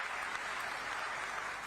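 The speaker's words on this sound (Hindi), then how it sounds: "विधायक इंदर साहू जी, हाँ जोरदार तालियां" An audience at a live political event claps in a short, fairly distant burst of steady applause.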